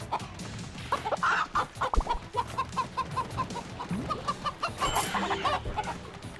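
Chickens clucking in the video game Moving Out: rapid, evenly spaced clucks run through the middle under game music and scattered knocks, fairly close and moderately loud.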